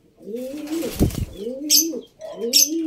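Racing pigeon cooing in low, rolling phrases, several repeated coos close by with brief wing flaps or rustles between them, no talking.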